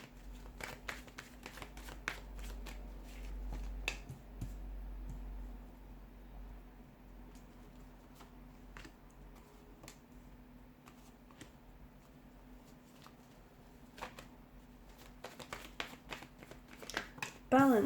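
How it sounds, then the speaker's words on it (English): A deck of tarot cards is shuffled repeatedly up close, quick riffling bursts and soft slaps scattered over a low steady hum. "give the cards a shuffle"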